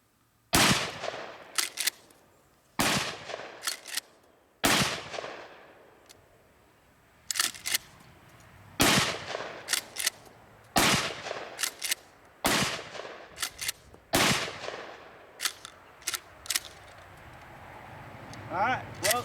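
Shotgun firing 3-inch bird shot shells at an outdoor gun range, a series of loud, sharp blasts with echoing tails, some in quick pairs, at irregular intervals across the stretch.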